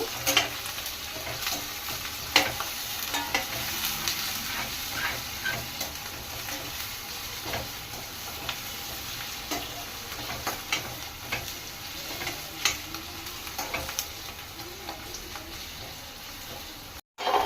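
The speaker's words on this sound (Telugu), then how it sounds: "చికెన్ ఉల్లిపాయలు వేగే వరకు వేపుకోవాలి" Sliced onions and curry leaves frying in oil for a chicken curry, a continuous close sizzle with scattered crackles and stirring scrapes throughout, no voices, briefly cutting out near the end.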